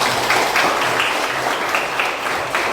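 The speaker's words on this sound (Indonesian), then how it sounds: "Tepuk tangan untuk mereka." Students in a classroom clap together in a brisk burst of applause, moderately loud and close, steady throughout the moment.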